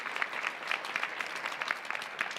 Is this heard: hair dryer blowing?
no